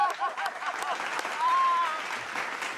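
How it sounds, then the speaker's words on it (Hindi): An audience applauds steadily at a Hindi comic poetry gathering in Gorakhpur, a dense, sustained wash of clapping with a brief whistle-like tone partway through. "ताली बजा दो।"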